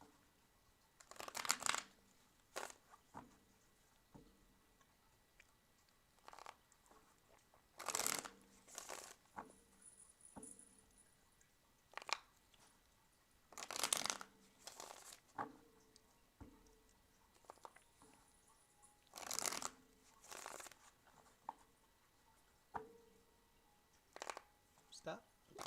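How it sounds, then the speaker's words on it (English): Tarot cards shuffled by hand in repeated bursts of crisp riffling and flapping, each burst separated by short pauses, close and moderately soft, with quiet talking in between. "tell me when to stop shuffling"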